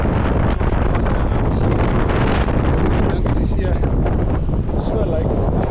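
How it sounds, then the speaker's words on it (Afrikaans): A strong east wind blows across the desert coast at Hentiesbaai, Namibia, buffeting the microphone with loud, constant roaring rumble that never lets up. "Kyk hoe waai hierdie wind."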